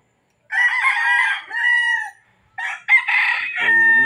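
A Boston gamefowl rooster crows twice, close and loud, each crow a long harsh call with a short pause between them, followed by lower clucking at the end.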